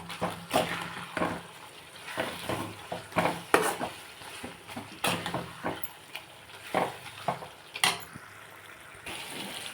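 Brinjal pieces fry in a pan with chilli powder, a continuous sizzle broken by repeated scraping stirs in an uneven rhythm, close and fairly quiet.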